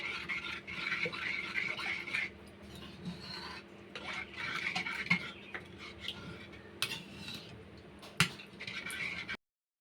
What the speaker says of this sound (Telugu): మన డొయ్యి అనేది ఇలా మంచిగా మిక్స్ చేసేసేయాలి